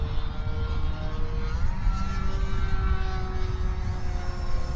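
A radio-controlled Maule M-7 model airplane flies overhead, its propeller engine giving a steady buzzing drone with shifting pitch at moderate distance, on a maiden flight with flaps out and the throttle raised.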